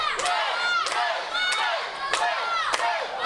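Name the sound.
wrestling crowd cheering for Will Ospreay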